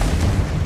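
A Confringo fire spell explodes in Hogwarts Legacy, a dense, loud booming burst with a heavy low-end rumble filling the whole brief moment, no speech over it.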